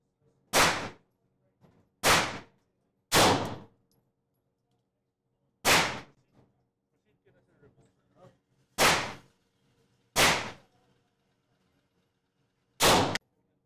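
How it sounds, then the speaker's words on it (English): Seven sharp gunshots ring out one by one at a shooting range, each a loud isolated crack with quiet gaps and faint handling noises between them. "align your sight, then aim and shoot."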